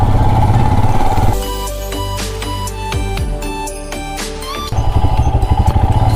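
Motorcycle engine idling and revving while riding in Leh, Ladakh, with a loud steady rumble throughout; the middle stretch carries tonal harmonic sounds that may be music or a horn over the engine.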